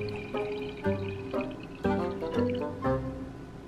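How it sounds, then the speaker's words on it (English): Water poured into a cup comes as a series of short liquid splashes and trickles, several bursts in close succession, near and fairly quiet, with no talking. "When you pour water in this cup, the arrows will change directions and go the other way."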